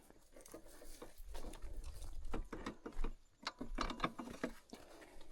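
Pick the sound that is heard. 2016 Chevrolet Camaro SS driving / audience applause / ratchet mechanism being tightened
ratchet mechanism being tightened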